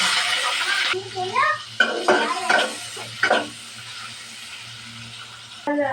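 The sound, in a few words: prawns frying in oil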